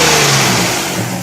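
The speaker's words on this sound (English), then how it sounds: "the intake going, sucking in all the air" Air rushing into a newly fitted aftermarket intake on a Saturn L300 as the engine revs, a loud, steady broadband whoosh over a low engine drone, alone with no talk.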